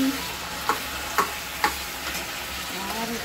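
Tomato added to onions and whole garam masala frying in oil: a steady, close sizzle with a few distinct crackling pops at regular intervals, a faint voice briefly audible at the very start.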